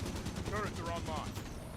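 Automated turrets in a video game fire a rapid burst of gunfire, dense and fairly loud for under two seconds, with short chirping electronic tones layered in.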